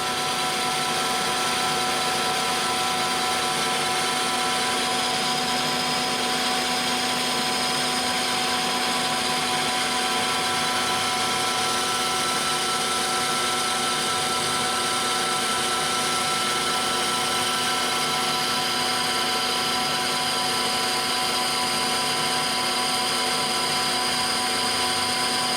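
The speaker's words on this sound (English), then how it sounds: "Skim pass to make sure it's concentrically round" A metal lathe takes a light skim pass on a large steady rest part, giving a continuous, even motor whine with a machining hiss at moderate level throughout, no speech.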